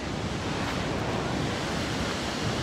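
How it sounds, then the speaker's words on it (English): Near a trail in Yosemite, a waterfall gives a dense, even hiss of rushing water, close and constant throughout the short stretch with no voices. "I got this awesome, beautiful, gorgeous waterfall behind us."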